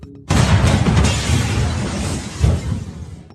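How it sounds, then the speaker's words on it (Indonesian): A sudden loud blast bursts in, followed by a sustained roaring rumble that swells again briefly before fading. "hingga bom itu pun meledak"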